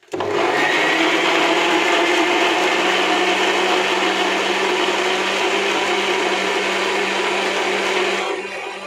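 Blender grinding a strawberry milkshake, a loud steady whirring drone that runs continuously for about eight seconds, then cuts off.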